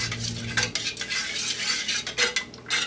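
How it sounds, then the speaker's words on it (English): Melted soy wax mixed with candle dye is stirred in a metal container, producing quick scraping and clinking strokes of the utensil against the sides, close and fairly loud. "I'm just gonna give it a stir."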